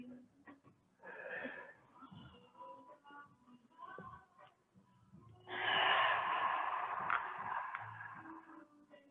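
Loud, sustained breath near the microphone during a beginner's hatha yoga flow, a long noisy exhalation after a stretch of quieter, uneven breathing and faint movement.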